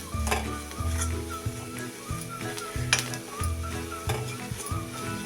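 Rice flour roasting in a pan with added sugar, a spoon stirring and scraping in steady repeated strokes with clinks against the metal over a constant close sizzle.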